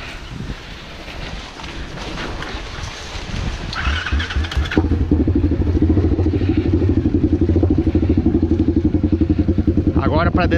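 Honda CB motorcycle riding on a steep dirt trail, its engine droning and puttering steadily close to the microphone with wind noise, louder and more even in the second half.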